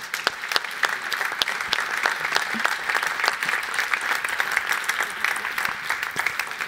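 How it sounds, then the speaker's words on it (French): An audience at a round-table panel event applauds the speakers, a steady, dense wash of clapping from many hands sustained throughout at full strength. "on va, je pense, applaudir nos différents intervenants"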